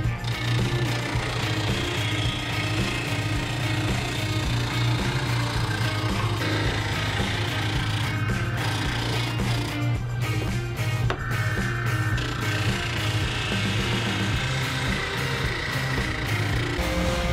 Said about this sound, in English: And I'll start sanding everything out with my homemade spindle sander.